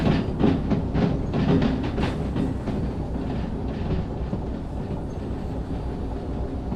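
A freight train in the Derail Valley railway game rolls steadily along, with rapid rhythmic wheel clatter and a dense, loud rumble throughout.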